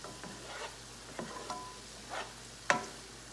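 Chicken pieces for butter chicken browning in a pot, a soft steady sizzle under a few brief scraping stirs and one sharper clink near the end, fairly quiet and with no talk.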